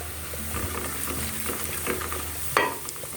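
Whole cumin, a small bay leaf and black and green cardamom drop into browned onions frying in a pot, giving steady close sizzling with light stirring scrapes and a sharper burst of crackle near the end.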